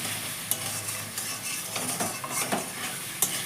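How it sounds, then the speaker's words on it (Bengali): A spice masala fries in oil for an egg curry while a spoon stirs and scrapes it, giving a close, continuous sizzle with repeated scraping strokes and occasional clinks, with no talking. "এটা যতক্ষণ তেল না ছেড়ে আসবে আমাকে সুন্দরভাবে এটা কষে নিতে হবে।"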